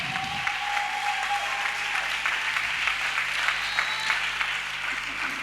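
A church congregation applauding and acclaiming the Lord, sustained dense clapping from many people that fills the room, steady and fairly loud, with a few voices mixed in beneath.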